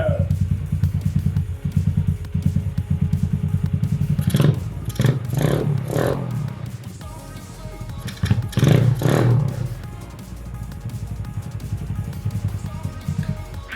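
A road-legal pit bike engine runs steadily at close range, a low throbbing drone with a few louder revving bursts and clatter partway through.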